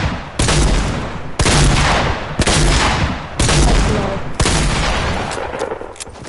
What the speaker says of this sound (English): tap square or spam it for like the reloading and shoot. It's a faster way of shooting.